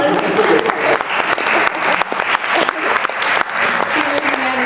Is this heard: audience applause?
yes